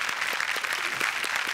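A studio audience at a comedy show claps steadily, a dense, even wash of applause throughout, fairly loud and without talk.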